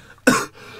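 A single sharp cough bursts out close and loud after a quiet moment, then fades into low room tone, with no talking over it.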